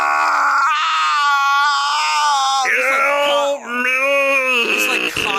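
A man vocally imitates Godzilla with a long, strained, wavering groan like a pained quiet scream, held loud and continuous for several seconds with rising and falling pitch.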